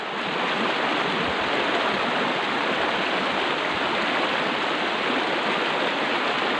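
A river flows through a gold-hunting site, its rushing water a loud, steady broadband roar that stays close and unbroken, with no voices over it.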